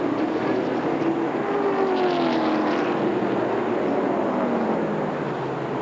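Late model stock cars roar around Nashville Speedway in a 1995 late model 200 race, a steady loud engine drone with rising and falling pitch as cars sweep past, continuous throughout.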